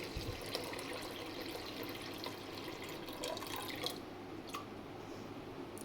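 Water trickles and splashes steadily into a pressure cooker holding dal at close range, with a few brief clinks near the end.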